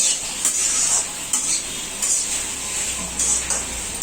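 Okra curry cooking in a pan with tomato, a steady soft sizzle broken by periodic bursts of stirring and utensil scraping against the pan, close by with no talk.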